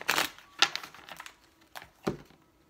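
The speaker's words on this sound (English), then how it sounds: "Last shuffle." Tarot cards are shuffled in a few quick, crisp bursts of riffling and slapping, close and clear, separated by short pauses.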